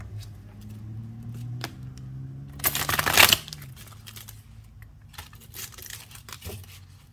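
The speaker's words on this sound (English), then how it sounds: "let's get a little message from the tarot, and we'll do a little shuffle." A single burst of tarot cards riffle-shuffled close by, a crisp rapid flutter lasting about a second, surrounded by quieter handling and light tapping.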